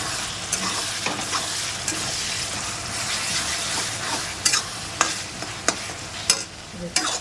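Prawns and fenugreek sizzle and crackle steadily in hot oil, with occasional stirring clinks and scrapes from a utensil, close up and without talk.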